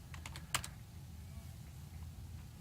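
Typing on a computer keyboard in a financial radio studio: a few quick soft key clicks near the start, faint under a steady background hum.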